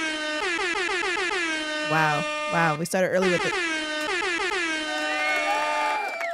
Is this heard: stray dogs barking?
no